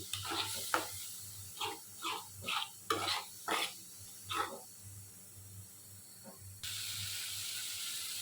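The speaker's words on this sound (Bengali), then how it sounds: "মশলাটাকে ভালোভাবে কষিয়ে নিচ্ছি" Spice paste with turmeric, whole garlic and green chili sizzles in a pan for a salted hilsa curry with potato and eggplant, with about eight rhythmic stirring scrapes followed by a steady, louder hiss.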